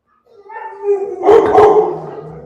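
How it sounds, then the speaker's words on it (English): A dog named Luna howls and whines up close, a rising drawn-out wail breaking into louder yowling, loud and alone. "It's the biggest whiny dog ever."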